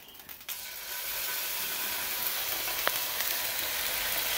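Salmon pinwheels with basil, lemon and garlic sear in a hot pan with a steady, loud, close sizzle and crackle that goes on without interruption.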